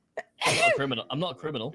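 A single sharp sneeze, loud and close, immediately followed by a person talking.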